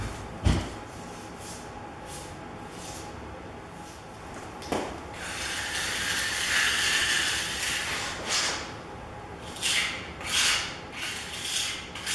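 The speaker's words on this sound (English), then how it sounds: "I'm now using a putty knife to scrape the concrete repair into the crack." A putty knife scrapes concrete repair compound into a crack in concrete, a rough rasping drag repeated in uneven strokes, with a sharp knock near the start and louder scraping passes toward the end.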